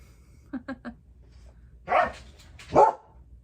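Pet dogs bark indoors, eager to play: three quick yips close together, then after a pause two louder, longer barks, with no talk over them.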